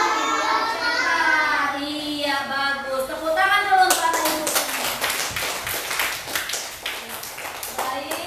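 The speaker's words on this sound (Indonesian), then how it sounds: "Tepuk tangan dulu untuk anak ibu." Hands clapping for schoolchildren in a classroom, a dense patter rising after a few seconds of voices and continuing close and steady to the end.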